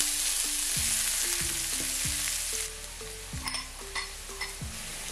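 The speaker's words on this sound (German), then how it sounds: "Dann fügen wir Zwiebel hin und ca. 2-3 Minuten andünsten." Chopped onions sautéing in a pan with coriander seeds and asafoetida for Indian lentil dal, a continuous close sizzle with occasional stirring scrapes over soft background music.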